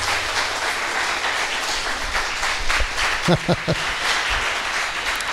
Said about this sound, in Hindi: एक अच्छी ताली बजा कर प्रभु को धन्यवाद